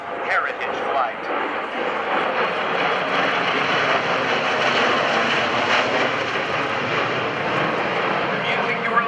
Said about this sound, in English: please look to the right for the first pass of your United States Air Force Heritage Flight